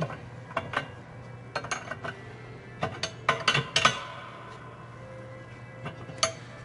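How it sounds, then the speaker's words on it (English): A nut being tightened down on a dowel puller so it closes on a dowel, giving scattered metallic clicks and ratcheting taps in small clusters, close and moderately loud, with no talking. "tighten this nut down, it's going to close on that dowel."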